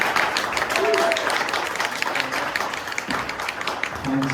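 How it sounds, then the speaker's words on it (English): Audience applause after a talk on quantum computing and blockchain, a short burst of clapping from a crowd in a conference room, with some voices mixed in near the end. "And a round of applause."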